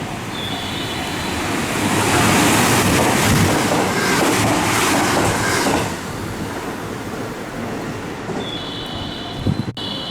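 A JR West Kyoto Line train roars through Suita Station, a loud, steady rush that swells over several seconds and then fades, with a brief tonal station chime at each end.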